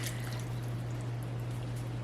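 Soft, steady pouring of canned beef from 2019 into a cooking pot, a faint continuous liquid trickle and slosh with a low hum beneath.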